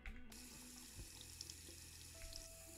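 Water runs from a tap in a video game, a soft steady stream of running water with a brief click at the start, heard alone and fairly quiet.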